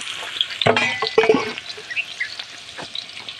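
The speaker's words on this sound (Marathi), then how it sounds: "कांदा थोडंच टाकायचं आणि त्याला हलवायचं" Onions fry in hot oil for biryani, sizzling with a few clattering stirs of a spoon against the pot, loudest early on and then settling into a softer, steady crackle.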